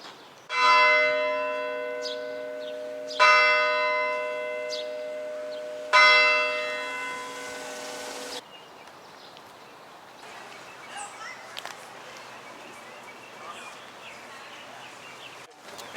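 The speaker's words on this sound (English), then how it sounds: "To hear the church bells." Church bells ring on a Sunday morning in Columbia, South Carolina, three loud resonant strikes a few seconds apart, each with a long ringing decay, followed by quieter outdoor ambience and faint birds.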